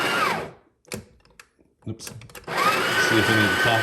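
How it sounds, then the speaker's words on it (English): A coffee grinder runs, grinding beans into a filter basket for a Breville espresso maker. Loud motor whir starts and stops in short bursts, and a person talks during the pauses. "So we'll grind it and see if any of the coffee"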